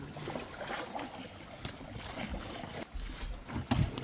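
A fishing boat moving across open water, with splashing and wind gusting over the microphone, steady throughout and louder near the end.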